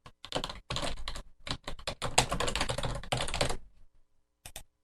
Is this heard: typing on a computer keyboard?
yes